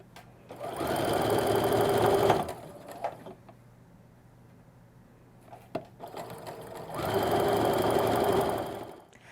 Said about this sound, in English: And again, I'm going to sew with this side up.